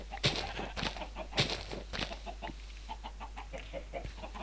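Minecraft chickens clucking, a cluster of sharp, close clucks and squawks repeating irregularly over a steady low hum, with no talking.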